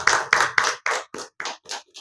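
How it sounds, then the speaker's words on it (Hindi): Close, crisp handclaps in unison at a wellness company presentation, about eight sharp claps that start strong and gradually slow and soften, with short silent gaps between them. "जोरदार तालियां।"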